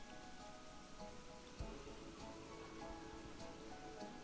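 Rain falls over a theme park with a swimming pool in the video game Planet Coaster 2, a faint, even hiss with occasional small knocks and a low thump.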